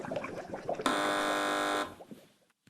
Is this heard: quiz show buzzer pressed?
yes